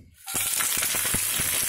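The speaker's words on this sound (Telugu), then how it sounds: "వేడెక్కాక ఇది పోపు దినుసులు వేద్దాం." Mustard seeds, cumin, chana dal, urad dal, curry leaves and dried red chillies dropped into hot oil on a stove, bursting into a loud, steady sizzle with sharp crackles and pops throughout.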